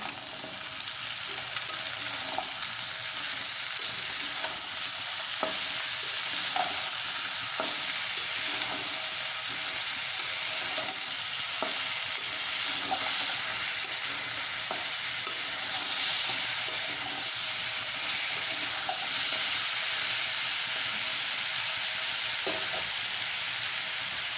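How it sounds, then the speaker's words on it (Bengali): Drumstick (sajina data) curry sautéing in a pan over a high gas flame, with a steady loud sizzle broken by repeated scraping strokes of a spoon stirring throughout, and no talk. "গ্যাসের ফ্লেমটা হাইতে দিয়ে কিছুক্ষণ ধরে কষিয়ে নেব।"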